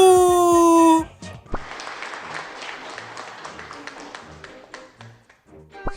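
In the video game Trickcal Revive, after a short musical chime, a crowd breaks into steady applause with quick, overlapping claps that fade toward the end.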